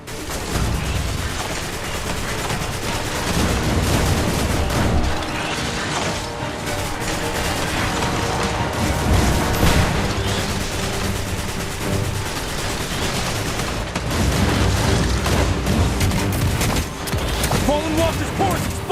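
Sustained gunfire aimed at a Fallen walker's legs in the game Destiny Rising, dense and continuous with booming impacts, running under in-game voices and a constant battle din.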